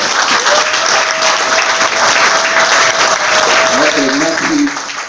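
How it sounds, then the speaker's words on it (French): Loud, dense applause from a workshop audience at a closing ceremony, steady and enthusiastic for about four seconds before tapering off, with faint voices underneath at the end. "Applaudissez très très très fort,"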